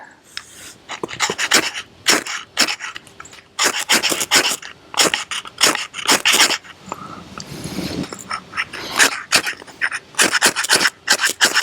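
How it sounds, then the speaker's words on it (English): A blade or scraper rasps repeatedly across a Doan magnesium fire starter bar to strip off its paint: close, loud, rough scraping strokes in quick irregular bursts, with no talking. "Scrape the paint off of there."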